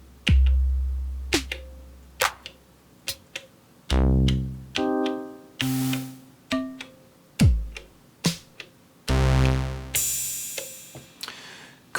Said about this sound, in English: what you heard was 8 digital engines and 4 analog engines